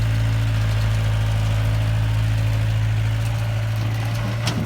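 An engine idles in a steady, unbroken low rumble with a faint mechanical knock, loud and close throughout, with no talking.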